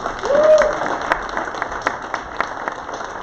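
Scattered clapping from members at a Gateway Rotary weekly meeting, honouring Doug Mott, with a short tonal sound near the start and sparse claps trailing off in the room.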